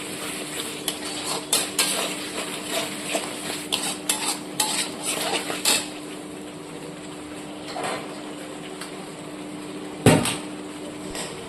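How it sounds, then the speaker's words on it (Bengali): Fried prawns tossed into a spice masala and sautéed in a pan for a bottle gourd prawn curry, with a low sizzle under repeated spatula scrapes and clinks, and one sharp knock near the end. "এরপর আমি অ্যাড করে দিচ্ছি ভেজে রেখে এই চিংড়ি মাছগুলোকে এর মধ্যে অ্যাড করে দিলাম। এটাকে কিছুক্ষণ কষিয়ে নেবে।"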